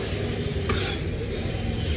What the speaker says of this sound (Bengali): ভালো করে একটু নাড়াচাড়া করে নেব হালকা ভেজে নেব বাঁধাকপিটা